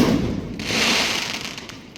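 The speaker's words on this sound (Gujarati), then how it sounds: "માસાએ 1000ની લૂમ અત્યારે મૂકી દીધી છે કમ્પ્લીટ એકદમ. હવે આ જે છોટો ટેટો છે એ 1000ની લૂમ ફોડશે અમારો." A string of 1000 Diwali firecrackers bursting outdoors, a loud dense crackling roar of rapid explosions running continuously through the whole stretch.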